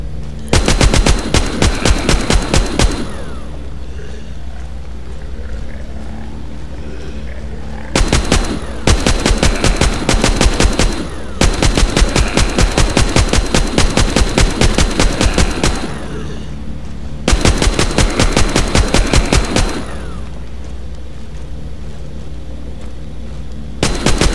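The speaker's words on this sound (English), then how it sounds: "Ooh, Gatling gun." Gatling gun firing in the zombie shooter game Walking Zombie 2, loud rapid-fire bursts of several seconds each separated by short gaps, harsh and close with a steady low background drone.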